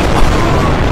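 An explosion in People Playground gives one second of loud, dense booming roar with no pause.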